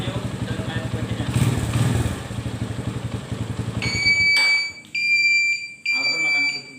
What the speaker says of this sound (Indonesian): Alarm akan berbunyi dan motor akan mati